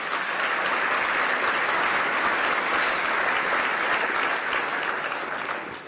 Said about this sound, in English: Please give them and our staff a round of applause for their great work.